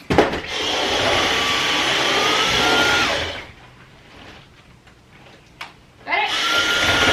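A household vacuum cleaner whines loudly for about three seconds, cuts off, then starts up again near the end, with a short quiet stretch between runs.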